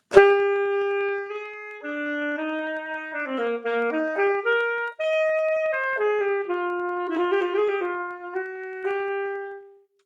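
A single saxophone plays a plain, evenly timed melody rigidly without expression, with steady held notes and little shading, clear and close with no accompaniment.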